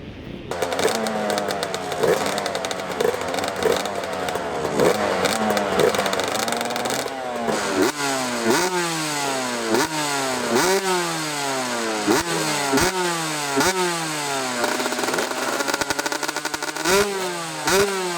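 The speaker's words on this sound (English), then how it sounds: "So I'm gonna show you some footage of David Pingree riding at Kawia" A Yamaha YZ125 two-stroke dirt bike with a full FMF exhaust revs hard out on a track, repeated rising and falling shrieking engine sweeps with gear changes, loud and fairly close.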